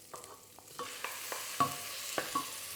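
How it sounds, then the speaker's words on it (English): Beef going into hot oil in a wok gives a quiet, steady sizzle, punctuated by a series of sharp clinks and scrapes of a utensil against the metal, spaced irregularly and growing slightly louder. "A little bit more oil, and then your beef goes in."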